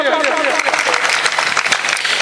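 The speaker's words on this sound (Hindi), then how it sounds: "एक बार ताली हो जाए यूनुस मलिक साहब के लिए।" An audience claps in sustained applause at a Hindi-Urdu kavi sammelan and mushaira poetry recital, dense close clapping that swells and carries on without a break.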